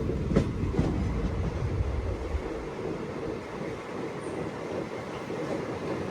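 On board the Krishna Express, a daily Adilabad to Tirupati passenger train, a steady low rumble of wheels on rails carries faint rhythmic clacks, fairly quiet and continuous, with no voices.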